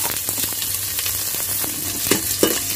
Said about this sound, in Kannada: ನೋಡಿ ಈಗ ಎಣ್ಣೆ ಕಾದಿದೆ, ಸಾಸಿವೆ ಹಾಕ್ತಾ ಇದ್ದೀನಿ